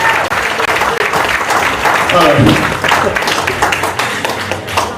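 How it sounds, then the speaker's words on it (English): A crowd at an Indo-American political gathering claps loudly and steadily for a councilwoman, with the applause swelling in the middle and a voice talking over it at times. "That's why I can't hear the claps as they should be"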